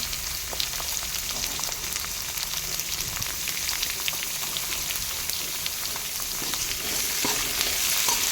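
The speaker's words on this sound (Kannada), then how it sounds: "ಆಮೇಲೆ ಈರುಳ್ಳಿನ ಸೇರಿಸ್ಕೊಂಡು ಸ್ವಲ್ಪ ಇದು ಈರುಳ್ಳಿ ಬ್ರೌನ್ ಆಗೋವರೆಗೂ ಸ್ವಲ್ಪ ಫ್ರೈ ಮಾಡ್ಕೋಬೇಕು" Onions frying in a pan until brown, with curry leaves already added, giving a steady, close sizzle and crackle throughout with occasional stirring scrapes and no voices.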